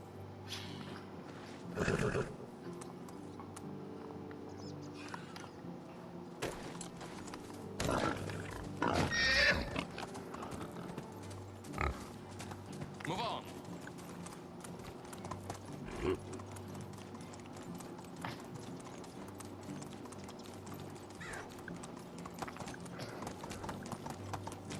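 A horse clip-clops on its hooves in an irregular, close rhythm, with several sharp neighs and whinnies breaking through, loudest near the middle, over a low steady background hum.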